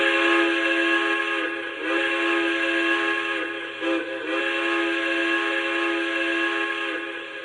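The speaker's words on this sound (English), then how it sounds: "if I go through some of the other sounds here, we have signal crossing sounds." A steady, loud electronic crossing-signal tone from the sound system of an O scale PRR K4s 1361 model locomotive, bright and reverberant, pulsing slightly in intensity, with no talking.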